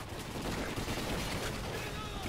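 Machine gun fire bursts in a Call of Duty: Ghosts battle as a dense, continuous rattle of rapid shots under a busy combat mix, fairly muffled and steady throughout.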